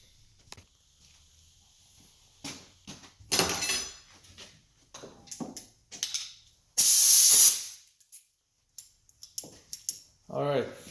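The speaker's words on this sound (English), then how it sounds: "All you need is access to compressed air and have this air gun. So all you gotta do is blow it out." An air gun blows compressed air through a dirty air filter from a Troy-Bilt TB330 lawn mower with a 190cc Briggs engine, giving a loud, steady hiss of under a second amid handling noises, clicks and short bursts of speech.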